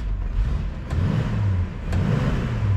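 The engine of a 1971 Ford Rural Luxo runs close and loud with a deep, rough throb, swelling in two brief revs. No one speaks.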